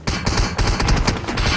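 Dense automatic gunfire from the battle royale game PUBG, with M416 rifles in play: rapid overlapping bursts and shots from several directions, loud and continuous with no talk.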